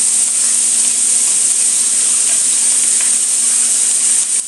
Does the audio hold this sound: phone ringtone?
no